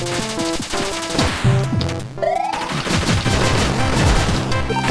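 Level 2 weapon in the Cave Story video game firing in rapid machine-gun bursts, loud chiptune rat-a-tat shots layered over upbeat game music with bleeps and crash effects, continuous and dense.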